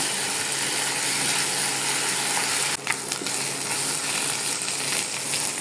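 Ginger and garlic paste fries in a pan, giving a steady, close hiss of sizzling oil with a brief dip partway through and no talk.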